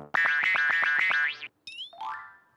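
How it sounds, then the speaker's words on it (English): Cartoon hair curlers popping off: a quick run of about seven springy boing pops in steady rhythm, followed by a rising whistle-like zip and a lower wobbling twang, quiet overall with no talk. "Wow, those curlers did pop off."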